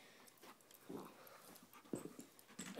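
A dog pants in quick, breathy bursts while playing, close to the microphone, with a few soft scuffling sounds between breaths and no talking.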